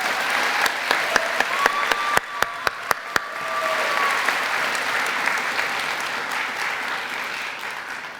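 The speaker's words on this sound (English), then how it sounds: "Please give them another round of applause." Graduation audience at an 8th grade promotion ceremony applauding, with a run of sharp individual claps standing out early over a broad, steady wash of clapping that fades slightly toward the end.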